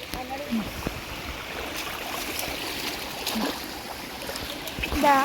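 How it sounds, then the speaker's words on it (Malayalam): Water trickles and gurgles steadily in a small stream nearby, with occasional splashes and faint background sounds. "ഇത് വേറൊരു വഴി വരുന്ന വെള്ളം"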